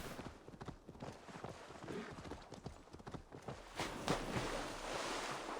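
Horse hooves clip-clopping in the video game Assassin's Creed Valhalla, a steady walking rhythm of soft hoof falls heard close over a wash of ambient water and outdoor noise, with no talking.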